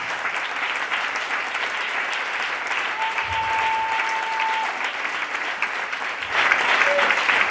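Church congregation applauding throughout, a steady broad wash of clapping that swells louder near the end, with a voice briefly audible underneath.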